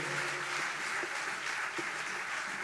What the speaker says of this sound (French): Est-ce qu'on peut les applaudir très fort, s'il vous plaît?